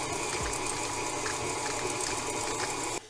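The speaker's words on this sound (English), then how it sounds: "we have 2 sticks of butter, softened, so room temp, and we're gonna mix that with our sugar." A KitchenAid stand mixer creams two sticks of softened room-temperature butter with sugar, giving a steady continuous motor whir with a wet churning texture that runs unbroken for about three seconds before cutting off.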